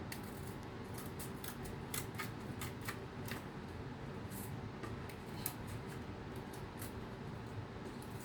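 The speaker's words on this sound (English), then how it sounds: "you should probably use scissors that are good for cutting cardboard with" Steady scissor snips through cardboard, a run of sharp crisp cuts over a constant low background hum, close by.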